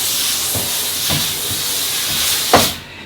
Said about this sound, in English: I can simply steam this off.